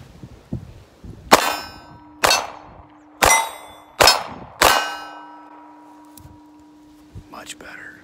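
Five sharp gunshots from a Ruger LCR .357 Magnum revolver with a short barrel, fired at an indoor range, loud, close and unevenly spaced, each with a ringing decay, with a faint quieter shot and soft talk afterward.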